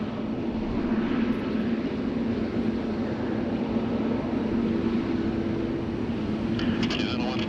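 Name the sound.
Air Canada Boeing 777-200LR jet airliner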